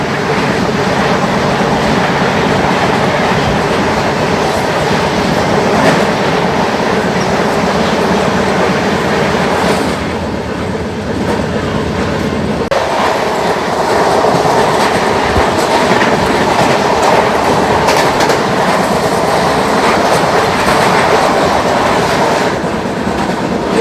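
A Yesvantpur–Delhi Sarai Rohilla Duronto Express rushes past at a crossing, loud and close, with a steady roar and rhythmic clickety-clack of wheels on rail joints throughout, easing briefly around the middle before the rumble swells again.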